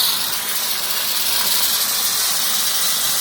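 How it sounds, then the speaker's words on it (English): A homemade steam generator for testing live steam locomotives vents a steady, loud, broad hiss of steam that runs unbroken and close throughout. "and now the steam is coming. A lot of steam."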